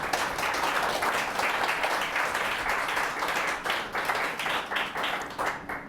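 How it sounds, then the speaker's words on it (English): Audience at a US Open tennis event applauding, a dense steady wash of many hands clapping that thins slightly toward the end, moderately loud with no voices on top. "let's give a big round of applause to Eric Babolat"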